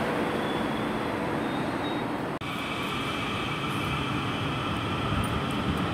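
Class 444 electric train, unit 444040, on a Weymouth service at Bournemouth, a steady broadband rumble with a faint high whine, one sharp clunk midway, then a steadier tone as the train moves out, no voices.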